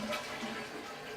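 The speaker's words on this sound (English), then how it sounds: "Then flush your toilets." A household toilet flushes, releasing a quiet, steady rush of water that continues through the short moment without any voices.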